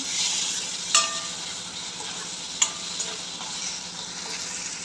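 Rajma masala with finely chopped tomato sizzling steadily in a frying pan as a spoon stirs it, a constant close frying hiss broken by a few sharp scrapes and clinks of the utensil against the pan.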